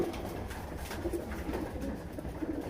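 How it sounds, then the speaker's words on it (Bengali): Pigeons at a loft of prize-winning pigeons coo in low, soft, overlapping calls, close and continuous over a steady background, with no talking. "এই একটা কাজ করা কবুতর"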